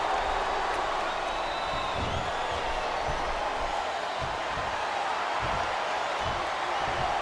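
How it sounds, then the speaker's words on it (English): A large wrestling arena crowd roars and chants during a WWE WrestleMania match, a steady, distant wall of crowd noise that carries without pause throughout. "Wow, listen to that chant."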